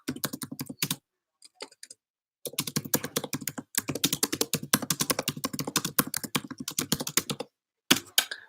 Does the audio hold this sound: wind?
no